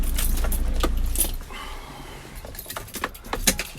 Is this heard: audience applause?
no